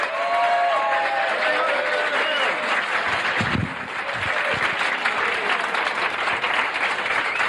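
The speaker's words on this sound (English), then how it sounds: "Let's have a nice round of applause." A comedy show audience gives a dense, loud round of applause for comedian Tony Edwards, many hands clapping steadily with a brief dip midway and faint cheering and voices mixed in.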